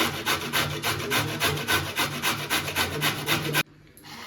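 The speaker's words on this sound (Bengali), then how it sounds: "গাজরটা ধুয়ে পরিষ্কার করে নিয়েছি নিয়ে আর এই গেটারটা দিয়ে ও ঘষে নিচ্ছি" A washed carrot is rubbed on a grater in quick, even, rasping strokes, about four per second, loud and close, stopping abruptly near the end, with no talking.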